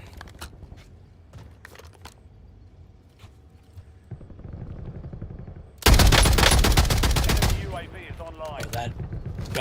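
Call of Duty Warzone gameplay: scattered distant gunshots give way to a loud, sustained burst of machine gun fire lasting about two seconds, followed by further rapid firing and game noise.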